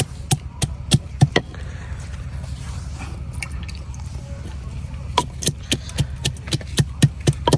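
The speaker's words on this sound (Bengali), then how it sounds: "আমি কিছু আস্ত রসুন আর পেঁয়াজ নিছি, এগুলারে এখন একটু ছেঁচে নিই" Whole garlic cloves and onions are crushed with sharp, close, rhythmic pounding thuds, a burst of strikes, a pause, then another steady series of blows.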